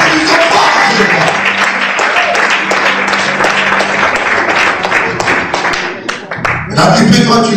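A congregation at a church sermon claps in sustained applause, with voices mixed in, before it tapers off and swells briefly again.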